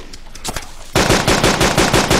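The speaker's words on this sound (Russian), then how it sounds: "Стрельба" Automatic gunfire in the survival game DayZ: a few scattered shots at first, then a loud sustained burst of rapid machine-gun fire that keeps going to the end.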